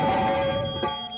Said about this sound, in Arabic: هذا صوت إنذار حريق